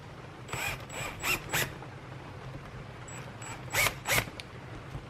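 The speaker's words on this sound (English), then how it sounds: "Let's just run these screws in." A power driver running hex drive screws through a Maxxfan Deluxe fan flange into pre-drilled holes, two short bursts of whirring ratchety driving separated by a pause, fairly close.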